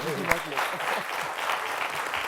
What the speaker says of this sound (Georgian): მადლობა, აპლოდისმენტები.